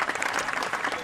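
A short burst of steady clapping rises from the golf gallery around the 18th green at the Evian Championship, dense and moderately loud.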